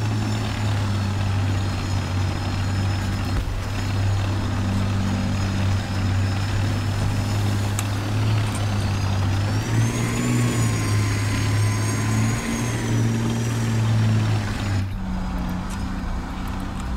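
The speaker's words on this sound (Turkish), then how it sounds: "Biraz motor sesi." A heavy Challenger 2 tank engine in War Thunder drones continuously, a low steady rumble that rises briefly in pitch midway, with no voices.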